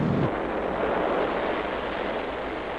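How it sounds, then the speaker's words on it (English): Sun Probe rocket launching in Thunderbirds, a steady loud roar with a broad rumble that holds evenly throughout, no voices. "a rocket launching never fails to give me a kick"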